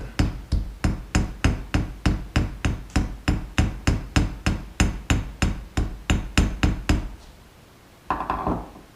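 Steady hammering on a rivet set into a metal pendant, swaging its head until it flares: about two dozen sharp, evenly spaced metallic taps close by, then silence and a brief scrape at the end.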